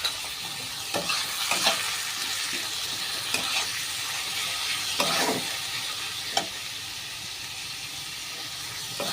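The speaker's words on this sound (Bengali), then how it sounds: "এটাকে একটু ভাজা ভাজা হবে।" Long strips of potato seasoned with turmeric and salt frying in a pan, giving a steady broad sizzle with occasional stirring scrapes and crackles, close and fairly loud, with no voices.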